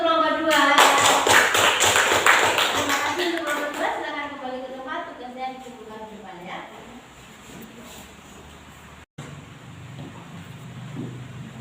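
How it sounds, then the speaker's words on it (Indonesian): A classroom applauds a student group after their presentation: many hands clap briskly for about three seconds, then the clapping thins out and leaves quieter room noise with some voices. "tepuk tangan untuk kelompok 2"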